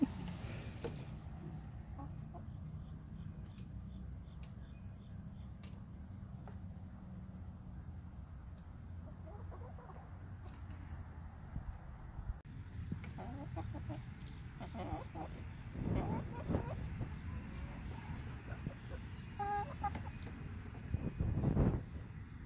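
Chickens cluck softly around a backyard compost pile, with scattered low clucks that grow busier and closer toward the end over a steady high insect drone.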